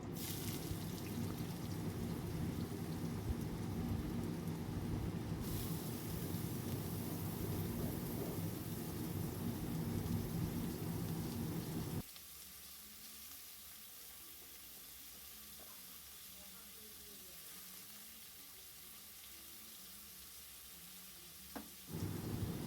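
Carrots frying in a pan for fried rice, a steady, rain-like sizzle that runs loud and even, then drops abruptly to a softer hiss partway through, with no talking.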